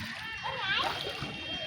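Water splashes and sloshes as people bathe in the Ganges at Bagbazar ghat, a brief close splash under people talking.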